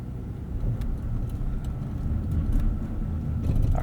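A 2026 Ram 1500 with a 5.7L Hemi V8 drives over large dips and brakes, a steady low engine rumble with road noise and faint knocks and clicks from the cabin, and no one speaks.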